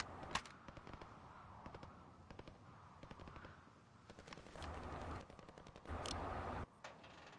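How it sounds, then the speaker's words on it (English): Gunfire in the video game Warzone: quiet bursts of rapid shots and scattered single cracks, with some louder, longer bursts near the end. "They're trying to shoot you through the grate."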